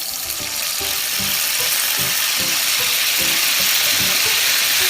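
Squid spattering in hot oil in a pan with onions, frying into a steady loud sizzle and hiss broken by repeated sharp pops and crackles.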